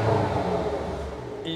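A 2017 Porsche Macan V6 S engine revs in sport mode, a short, close, throaty surge that rises and then eases off, heard on its own.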